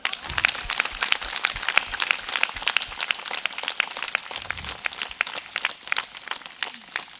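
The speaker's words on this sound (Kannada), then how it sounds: "ಜೋರಾಗೆ ಚಪ್ಪಾಳೆ" Audience applause, scattered and uneven claps that rise and fall steadily across the whole stretch.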